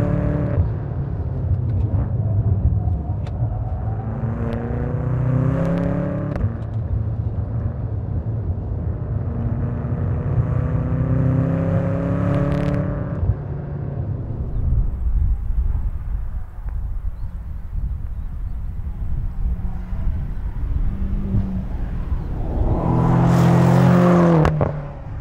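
A BMW M5 F10 with a twin-turbo V8 drives past, its engine note climbing through several rising gear pulls and shifts, a loud rumbling roar that peaks with a sharp burst of revs near the end.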